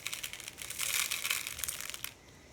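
Birdseed poured from a small cup onto a peanut-butter-coated bird feeder indoors makes a steady, dry rattling patter that swells midway and then stops abruptly.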